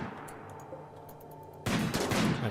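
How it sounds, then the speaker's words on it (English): A single loud round fired in RimWorld bursts in abruptly partway through, followed by a dense, noisy crackle and rumble that stays loud to the end after a quieter stretch of low hum. "Let's just fire one round to wake them up."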